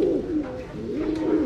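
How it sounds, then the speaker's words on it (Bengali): One pigeon from Rajshahi coos softly and close by in a brief, low, rolling phrase. "রাজশাহী থেকে আনা একটা কবুতর।"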